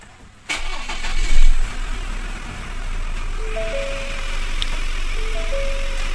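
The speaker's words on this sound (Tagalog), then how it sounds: "Paandarin natin ang kanyang makina" A 2023 Ford Ranger 2.0L 4x4, freshly washed in the engine bay, cranks and catches with a push start after a moment of quiet, then settles into a steady, moderately loud idle.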